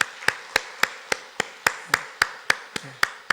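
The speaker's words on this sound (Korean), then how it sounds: "우리 박수로 위로하겠습니다." A church congregation claps in slow unison during a Sunday morning service, offering comfort to a grieving family: about a dozen sharp, evenly spaced claps, each a crisp crack with a short room decay, in a measured beat.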